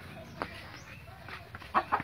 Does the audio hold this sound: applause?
no